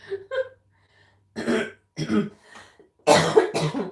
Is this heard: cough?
yes